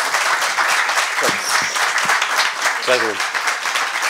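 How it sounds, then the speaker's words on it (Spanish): A crowd at an academic telecommunications conference in Lagos breaks into full, continuous applause, a dense, even wash of clapping throughout, with a brief spoken word and a voice cutting in over it. "les damos un fuerte aplauso"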